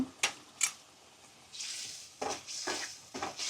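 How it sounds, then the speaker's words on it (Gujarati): Cashew and garlic curry gravy stirred in a pan, with a soft sizzle under scattered scraping strokes of a spoon against the pan, some sharp and close, building in rhythm toward the end. "હવે બધું મિક્સ કરી લેવાનું ગ્રેવી સડી જાય ત્યાં સુધી આપણે આવી રીતના હલાવવાનું"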